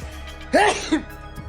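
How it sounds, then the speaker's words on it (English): A single short sneeze with a sharp burst and a quick vocal trail-off, close to the mic, then quiet. "I've never sneezed in the middle of the outro."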